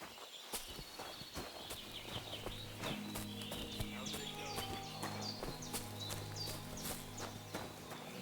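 Horse hooves clip-clop in a steady walking rhythm in the medieval video game Kingdom Come: Deliverance II, close and even, under a background of ambient game sound and faint voices.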